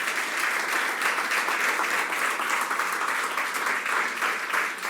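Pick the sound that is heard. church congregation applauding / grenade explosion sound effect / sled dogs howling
church congregation applauding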